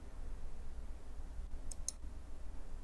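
A computer mouse double-clicks while working in Autodesk Inventor software, two quick faint clicks over a steady hum of room noise.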